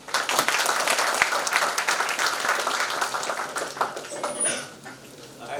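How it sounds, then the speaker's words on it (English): A crowd applauds steadily with dense, continuous clapping that fades slightly toward the end, with murmured voices mixed in. "So a huge round of applause for Olga ma'am."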